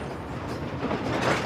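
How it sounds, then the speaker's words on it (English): A train running on still-used tracks in southern Africa that carry copper and other minerals from Congo and Zambia, a steady rolling rumble and rattle that holds for the whole stretch, moderately loud, with no talk. "And even this train and the track it rides on lie at the heart of my story."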